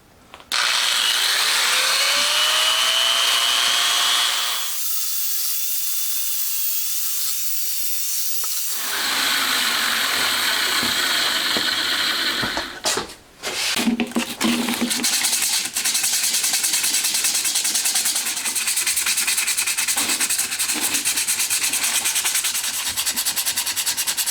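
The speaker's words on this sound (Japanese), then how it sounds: "ベルトサンダーとかヤスリを使ってこの辺ちょっと地肌出しときますね" A belt sander and file grind a Honda Monkey engine part down to bare metal: a loud, steady abrasive roar that stops for a few seconds, then resumes with harsher rasping strokes.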